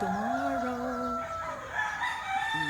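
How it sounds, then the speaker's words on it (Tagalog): A chicken calls outdoors on a morning in La Union, Philippines, giving drawn-out, tonal, crow-like calls that sound fairly near and clear against soft ambient background noise. "Hello chicken."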